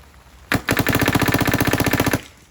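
An airsoft gun fitted with a PWR barrel fires a sharp, rapid burst of evenly spaced shots, loud and close, lasting about a second and a half before stopping abruptly.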